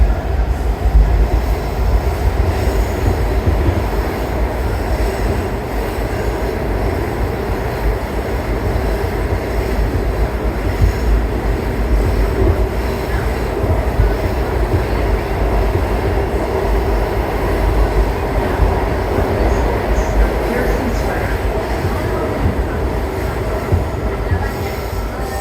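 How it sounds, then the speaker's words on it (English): A new DC Metro train car rolls along the rails near Union Station, a loud steady rumble with wheel noise and faint squeal running throughout, no talking. "This is also a new train too, a new train car."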